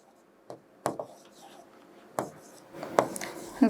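Chalk or marker tapping and scratching on a board during a chemistry lecture, several short sharp strokes spaced out irregularly, close and fairly quiet.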